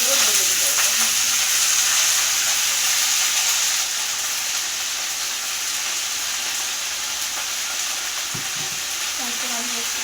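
Red amaranth greens fry in oil with panch phoron spices in a wok, giving a loud, continuous close-up sizzle that eases slightly partway through, with occasional stirring knocks.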